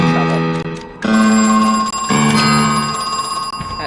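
A ringing phone in the horror game Crow Country trills in repeated bursts, with a strong harmonic electronic ring that starts, breaks off and starts again, loud and steady throughout.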